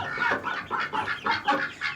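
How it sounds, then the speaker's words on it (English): Ducks coming in make a commotion on a small farm, a run of close, loud, choppy quacking and clucking calls in quick bursts with brief gaps between them. "All that commotion you hear is my ducks coming in"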